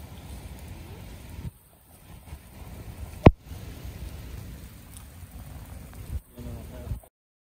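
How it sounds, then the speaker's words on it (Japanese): Heavy rain falls steadily outdoors near a flooded river by a road during a July rain warning in Japan, a dense close wash with one sharp bang midway, and a voice speaking briefly over it. "雨です。"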